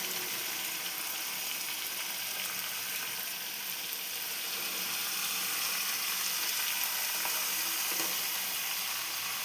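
Spinach and fenugreek leaves sizzle in a pan, a dense, even hiss that holds steady throughout with no talking.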